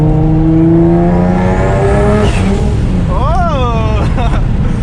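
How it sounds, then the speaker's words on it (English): A single-turbo Nissan 350Z heard from the passenger seat, its engine droning loudly as the pitch climbs under acceleration, then dropping, with warbling turbo whistles and flutters close by. "I can hear the turbo so much more right here on the passenger side because the turbo's right here"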